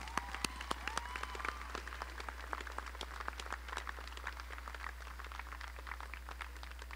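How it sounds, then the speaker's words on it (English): A graduation audience for a career magnet school class gives a round of applause: many sharp, scattered claps spread across a large room, moderately distant, over a low electrical hum. "Please give this class a wonderful round of applause for their accomplishments."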